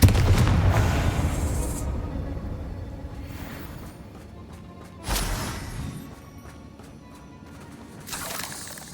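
Bombarda spell blasts in the video game Hogwarts Legacy: a heavy booming burst at the start, then a second sharp crash midway and a softer thump near the end, each with a rumbling tail.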